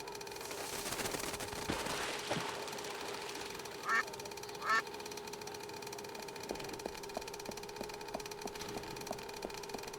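Ducks quack in a Paris scene of the video game Secret Files 2: Puritas Cordis, two brief nasal bursts a moment apart over a steady ambient hum with faint clicks and knocks.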